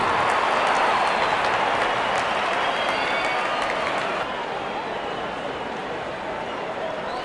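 Stadium crowd in the cricket video game Real Cricket 24 roars during IPL match play, a dense, loud wash of cheering and applause holding steady, then dipping slightly in level partway through.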